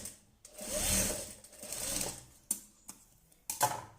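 Sewing machine stitching a blouse, heard in two short whirring runs followed by sharp mechanical clicks and taps, close and fairly quiet, with no talk.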